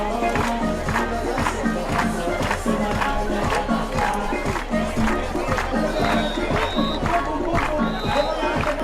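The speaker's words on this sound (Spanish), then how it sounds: "Aplaude a los dos participantes de esta gran final cadete femenina en la playa de Xunqueira" Spectators at a women's cadet beach handball final on Xunqueira beach in Moaña clap and murmur in a continuous, moderately distant crowd noise, while an announcer talks over it.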